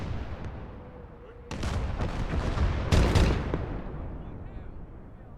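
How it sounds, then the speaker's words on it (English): Repeated grenade blasts in the WWII strategy game Gates of Hell: a low rumbling bed of battle noise, then a heavy burst near one and a half seconds and a louder, sharper explosion around three seconds, fading into rumble. "I'm gonna spam some nades"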